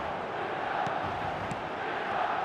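Dense stadium crowd noise from a football video game match day, a steady wash of massed voices and roar holding at an even level throughout without standing out in sharp bursts.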